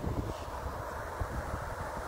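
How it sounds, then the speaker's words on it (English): Steady wind buffets the microphone with a low, rumbling roar throughout, no voices present. "There it is. It's windy."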